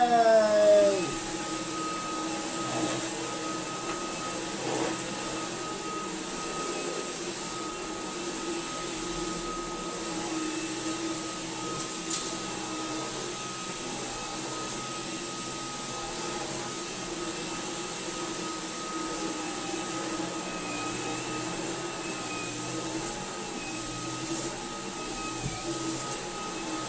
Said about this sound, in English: Can I use my Dyson V11 again?